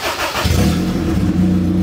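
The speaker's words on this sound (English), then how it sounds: "When I extended it, I cut the exhaust off. So now it sounds like a real ricer, baby." A car engine with its exhaust cut off fires up close by and settles into a loud, raw, buzzing idle with a rough low drone.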